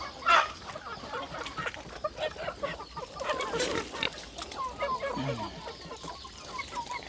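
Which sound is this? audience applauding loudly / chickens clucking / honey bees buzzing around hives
chickens clucking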